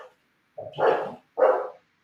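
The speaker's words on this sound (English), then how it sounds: "Who's my dog? Somebody was at the door." A dog barks twice in quick succession, a loud, close, rough bark followed by a shorter second one, with no voices over it.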